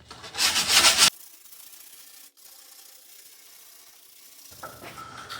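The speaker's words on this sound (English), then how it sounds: "I'm just going to go ahead and sand off the edges again because there's still some splinters on the edges." Plywood edges being sanded to knock off leftover splinters on a dresser-turned-workbench: one loud, rough rasping burst of about a second, then only faint background hiss and a soft later rustle.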